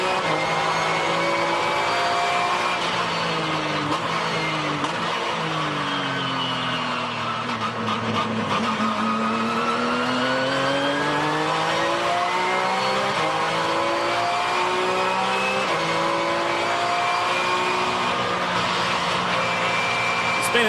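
Sports race cars at the Rolex 24 endurance race, engines roaring continuously as they pass and shift through gears, loud and steady with overlapping passes and a commentator talking over them.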